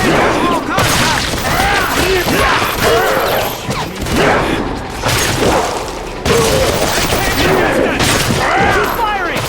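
Loud, nonstop automatic gunfire and heavy booms fill an X-Men Origins: Wolverine battle, with overlapping bursts and crashes, while soldiers shout orders over the din.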